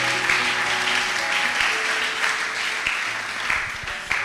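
A church congregation applauds together, a dense, steady wash of clapping that carries on for several seconds with no voices rising above it.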